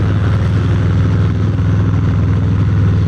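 Harley-Davidson Road Glide motorcycle cruising in highway traffic, a steady loud low engine drone with throbbing rumble and wind, continuous and close throughout.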